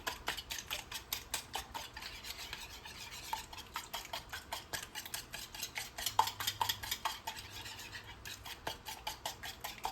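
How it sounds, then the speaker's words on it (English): Three eggs beaten in a bowl for banana nut bread batter, a quick, steady run of close clinks and taps from a utensil against the bowl, continuing without pause and with no voices. "I have 3 eggs that I'm going to beat."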